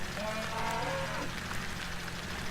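Cattle on a farm, a single short moo rising briefly and fading within about a second, fairly faint against a steady low background hum.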